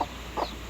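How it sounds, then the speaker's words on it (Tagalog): Rhode Island Red hens give two short, close clucks about a third of a second apart, with a faint low background hum beneath them. "Ito po yung mga inahin pong Rhode Island."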